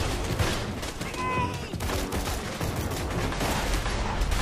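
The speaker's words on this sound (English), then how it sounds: "This gun actually is full auto." Dense full-auto gunfire from a weapon in the co-op shooter game Borderlands 2, a continuous loud rattling barrage with mixed game effects throughout.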